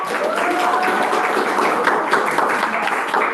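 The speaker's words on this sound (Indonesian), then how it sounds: "Kasih aplaus dulu untuk kelompok" A classroom group claps for a presenting team in a steady, dense wash of applause that holds for a few seconds with a faint voice in the background.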